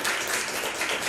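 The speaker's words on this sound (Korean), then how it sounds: "축복의 박수 한번 주시기 바랍니다." A church congregation in a Korean Sunday service bursts into a short, dense round of applause, with many hands clapping together in a loud, continuous wash.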